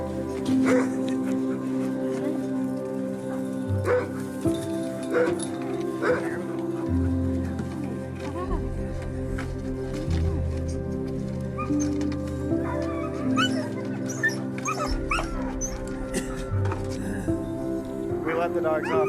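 Sled dog puppies whimper and yip in the Alaskan mountains, with short high cries scattered through the clip while a person talks over them nearby.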